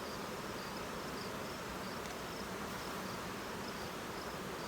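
Honey bees buzzing over an open hive, a dense, steady drone filling the whole few seconds at a low, even level with no speech.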